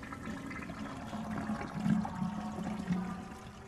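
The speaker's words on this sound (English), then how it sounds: "I can't believe I got jump scared by a toilet flushing." Toilet flushing nearby, a swelling watery rush and gurgle that rises midway and then settles, with no talking over it.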